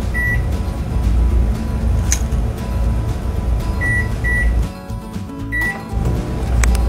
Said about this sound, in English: You are going to place your mug with the batter inside the microwave